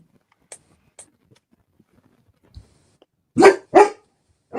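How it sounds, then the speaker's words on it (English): A dog lets out two loud, close barks in quick succession after a few seconds of near silence broken only by faint scattered ticks and knocks. "The dog has heard a noise."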